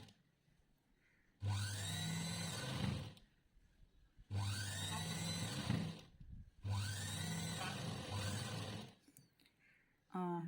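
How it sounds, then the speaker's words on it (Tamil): A sewing machine stitches along the edge of a blouse in three long runs, each a close mechanical whir with rapid needle rhythm lasting about two seconds, separated by short quiet pauses. "அந்த ஓரத்துலேயே தையல் போட்டுகிட்டே வாங்க. ஃபுல்லாக தையல் போட்டு எடுத்துக்கலாம்."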